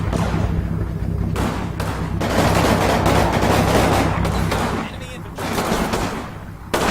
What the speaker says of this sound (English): That's firing its machine gun, that's a good start.